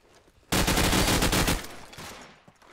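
Rapid burst of automatic gunfire in Call of Duty 4 promod on the Backlot map, loud and continuous for about a second, then trailing off into quieter game ambience.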